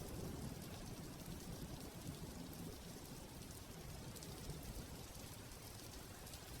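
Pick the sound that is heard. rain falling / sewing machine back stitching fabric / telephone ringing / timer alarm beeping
rain falling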